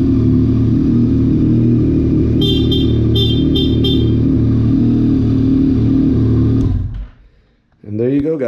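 A 2021 Yamaha MT-09 idles steadily in neutral, a loud, close low engine drone that runs continuously and then drops out briefly near the end, with a short burst of horn-like tones partway through.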